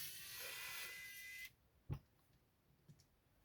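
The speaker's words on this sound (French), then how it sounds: "Et puis on va la dévisser tranquille." Screws being driven out of an Xbox Elite Series 2 controller that has stick drift: a close, steady motorized buzz for about a second and a half, then it stops and one small click follows.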